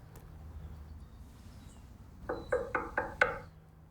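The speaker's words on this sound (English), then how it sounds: "Knocking on the door." Five sharp knocks on a door in an even rhythm, moderately close, after a quiet stretch.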